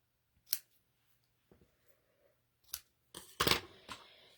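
Scissors trim paper for a handmade Easter bunny card: a few crisp, separate snips close by, spaced out across the moment, with a brief cluster of cutting sounds toward the end.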